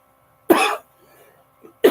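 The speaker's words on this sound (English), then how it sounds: "I'm coughing" A man coughs twice, close up, with sharp bursts about a second apart and a faint throaty rustle between them. No other voices.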